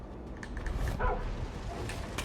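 Dog in the Far Cry 5 video game barking a few times at moderate distance, short yips over a low rumbling game backdrop.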